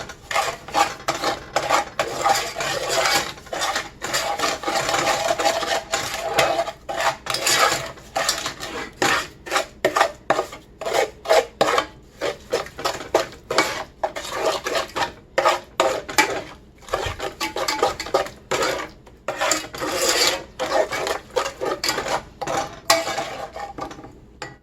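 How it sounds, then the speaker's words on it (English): A spoon scrapes and clinks steadily around a bowl as egg yolk and other ingredients for Tudor short cakes are stirred together, a loud, continuous rhythmic scraping with no talking. "Now I'm going to stir all of these together before I add the flour."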